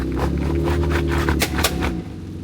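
Broken transfer case chain on a Jeep Grand Cherokee WK2 with the Quadra-Trac II system, a loud, continuous rough grinding rumble with a couple of sharp clunks near the end.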